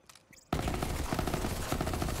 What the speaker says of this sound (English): I wanted a nice, fancy, rare gun. It's the Venomous Hornet.